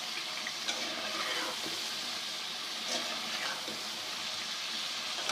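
Potatoes frying in masala for Kashmiri dum aloo, a steady soft sizzle and bubbling from the pan with occasional scrapes of a spoon stirring, close and continuous.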